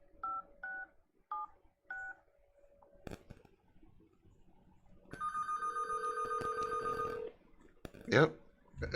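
A self-hosted home phone line plays a few quick keypad tones, then a click, then a long, loud electronic ring with a second steady tone beneath it. A clatter follows near the end.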